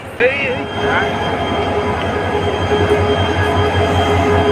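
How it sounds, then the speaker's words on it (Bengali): Railway yard sounds as a locomotive is coupled to a local train, with a sustained mechanical hum, a brief squeal near the start, and steady rumbling as rolling stock shifts, fairly loud and close. "দেখো ইঞ্জিন কেমন লাগায়"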